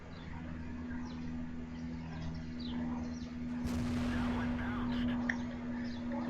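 Tank shell bouncing off a light tank's armour in World of Tanks, a sudden broadband impact crack that lingers as a noisy burst over a steady engine drone, with game chatter and effects around it.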